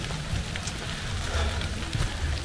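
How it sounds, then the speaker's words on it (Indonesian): Rain beginning to fall on a mountain trail, a steady soft patter of drops on leaves and ground, fairly close and continuous, with low rumbling bursts underneath and no talking. "Ini udah mulai turun hujan."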